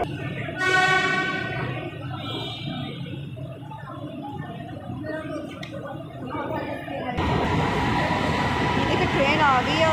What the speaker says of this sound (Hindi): ट्रेन आ गई है और हम उसमें बैठने लगे।